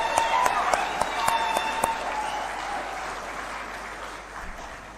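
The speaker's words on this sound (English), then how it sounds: "Let's clap for that." Steady applause from an audience at a Taxpayers Day event at State House in Kenya, many hands clapping continuously with a few sharper claps standing out, fading slightly toward the end.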